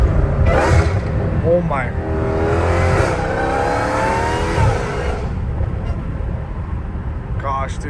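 A Dodge Challenger Hellcat Redeye with an aftermarket intake revs, and its supercharger gives off a rising, sweeping whine. The engine note climbs and falls a few times close by, while a man reacts over it.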